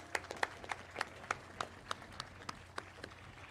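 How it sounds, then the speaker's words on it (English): Scattered applause from an audience honouring students at an evening Gift of Education event, heard as about a dozen separate, fairly faint claps in an uneven rhythm. "let's give another round of applause for our students here tonight"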